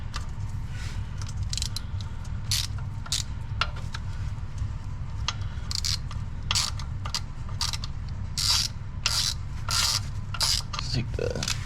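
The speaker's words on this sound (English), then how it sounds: "I'll grab my little baby wrench just to give me a little bit of leverage" A small wrench works on oil pan bolts of a 2003 Chevy Cavalier, giving repeated short ratcheting and scraping bursts over a constant low mechanical hum, close by.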